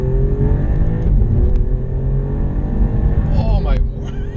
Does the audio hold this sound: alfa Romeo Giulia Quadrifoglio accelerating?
yes